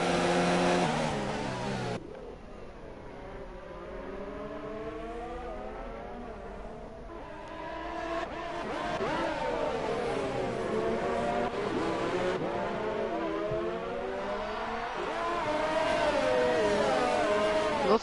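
F1 race cars from the F1 2019 video game at the Bahrain Grand Prix scream past in a dense midfield pack, engines revving and shifting up and down continuously and loudly for the whole stretch, with no talk.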